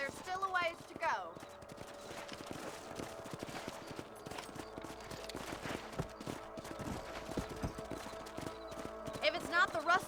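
Hooves clop in a steady, rhythmic trot from horses in the Western video game Red Dead Redemption, close and continuous over a low musical bed, with a brief whinny at the start and a voice talking intermittently.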